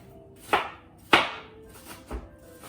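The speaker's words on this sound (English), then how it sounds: "And I'm chopping some onions, also small." A knife chops onions into small pieces on a board, with a few distinct, crisp cuts spaced irregularly, heard close with no talking.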